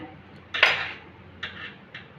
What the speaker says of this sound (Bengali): এবার আমি চামচ দিয়ে ডিমটা কিন্তু বাটি থেকে এইভাবে ছাড়িয়ে নিলাম